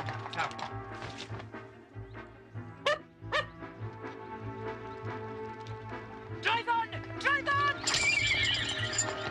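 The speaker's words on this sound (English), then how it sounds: "Stop the carriage, Watson." A horse pulling a carriage neighs loudly several times over steady hoof clatter and a low rumble, with a dog barking and voices talking in the scene.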